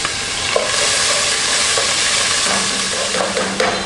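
Onions hit hot olive oil in a pan and sizzle loudly and steadily, close up, with occasional scraping of a utensil stirring through them.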